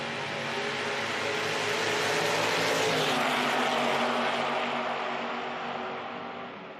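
Drag racing cars, a 1963 Pontiac Le Mans and a third-generation Camaro, launching at an IHRA Outlaw Nitro Pro Am event, give a loud, sustained engine roar that swells and slowly fades, with no talk over it.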